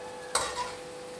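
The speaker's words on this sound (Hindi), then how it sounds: "इसी तरह ये मैं प्याज भी फ्राई करके अब निकाल लूँगा" Onions frying in a karahi pan with a single brief stir, a short scraping sizzle burst over a steady low frying hiss, close and fairly quiet.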